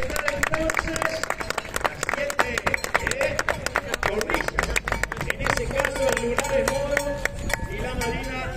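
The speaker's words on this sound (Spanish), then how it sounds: "Vamos a recibirlo con el aplauso" A crowd gives dense, continuous applause at the closing ceremony of the Expo Prado 2024 horse show, while an announcer talks over the clapping throughout.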